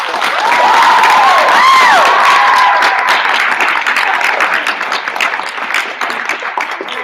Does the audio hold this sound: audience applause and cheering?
yes